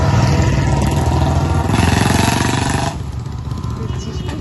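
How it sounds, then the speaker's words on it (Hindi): A motorbike engine roars loudly close by with a steady buzzing drone, then drops off partway through as it moves away, while speech continues over the noise. "जोर जोर से बाइक गया, आवाज से डर रहा था।"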